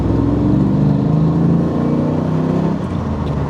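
A 1997 Chevrolet Camaro SS with a manual gearbox pulls hard in second gear, its V8 engine rising in a loud, continuous drone heard from inside the cabin, easing slightly near the end.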